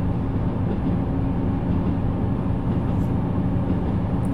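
A diesel railcar in a train simulator game runs at full throttle, giving a steady, dense low engine and rail rumble that holds constant and loud throughout with no pauses.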